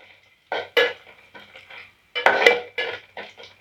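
Dried red chilies and garlic sautéed in a pan, heard as a series of close, sharp scraping and clinking stirring strokes with brief pauses between them.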